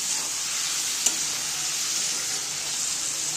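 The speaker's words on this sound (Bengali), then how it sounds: "এরপরে আমরা ভেজে রাখা সেই সমস্ত সবজিগুলোকে দিয়ে দেব। আবারও ভালো করে মিশিয়ে নেব।" Fried vegetables are stirred into moong dal in a pan, a steady soft sizzle with one brief clink of the utensil near the start.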